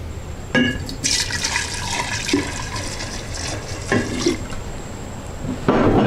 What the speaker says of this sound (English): That jar pours a little bit better than this one.